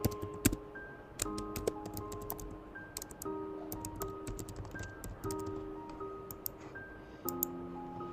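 Typing on a computer keyboard, a steady run of light, close key clicks and taps in irregular bursts, over a soft background of musical tones.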